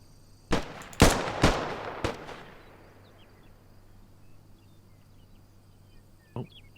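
Rifle fire at a 300-meter standing range, five rounds: sharp cracks spaced about half a second apart, then a lone later shot, each with a ringing outdoor decay and no talking.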